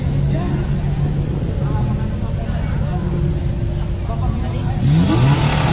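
Toyota Starlet cars queue at a drag race event with engines idling and revving loudly nearby, a dense continuous rumble that swells toward the end, while someone talks over it.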